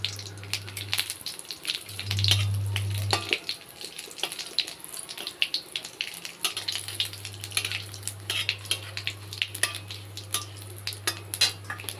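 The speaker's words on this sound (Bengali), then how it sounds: "ফোড়নটা একটু ভাজা ভাজা হয়ে গেল।" Bay leaf and white cumin seeds fry in hot oil for a tempering. A moderate crackling sizzle runs throughout, with scraping stirs and clinks from the pan and a low steady hum underneath.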